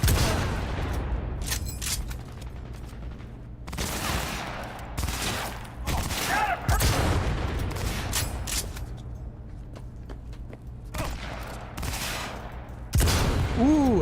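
Sniper rifle shots ring out in the video game Cyberpunk as a series of sharp, separate cracks spread across the span, with quieter game noise between them.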